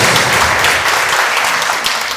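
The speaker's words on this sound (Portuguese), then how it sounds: "Dê uma porção de palmas" A church congregation gives a loud round of applause, dense and continuous clapping close up that tapers slightly toward the end.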